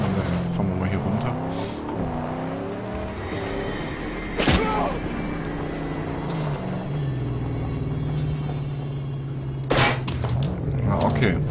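Vehicle driving in the post-apocalyptic video game Mad Max, a steady engine drone with shifting pitch, rougher bursts, and two sharp loud impacts partway through and near the end, with talk over it.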